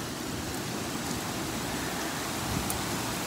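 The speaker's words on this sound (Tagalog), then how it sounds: "It's raining here in Jeddah." Heavy rain pours steadily in Obhur, Jeddah, a dense, unbroken hiss that stays loud and even from start to finish with no voices.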